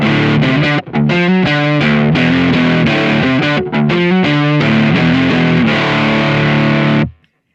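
A loud, heavily distorted electric guitar through a Kemper Profiler JCM amp profile chugs through a fast riff of crunchy chords and notes, ending on a sustained chord that cuts off.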